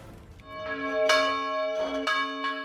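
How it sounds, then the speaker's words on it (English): A church bell rings out clearly, several resonant strikes with long ringing tones overlapping one another. "The bell summons the faithful to Mass"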